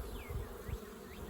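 Honeybees buzzing around an opened hive during a spring inspection, a steady close drone with individual bees whining past the microphone, faint and without speech.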